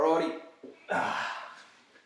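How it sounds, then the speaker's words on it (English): A man doing a Wim Hof breathing exercise, drawing a deep, forceful breath in and letting it out in a rush. One long, breathy inhale-exhale cycle sits close to the microphone. "Wim Hof breathing."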